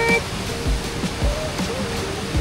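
Alejo Falls in Southern Leyte, Philippines, roars as a steady broadband wash of falling water, with faint low thumps and a brief tonal sound early on, and no speech.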